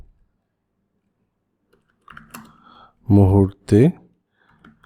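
Soft keyboard typing on a computer while writing a Facebook page inbox message in Bengali, a short run of light clicks followed by a brief spoken word nearby.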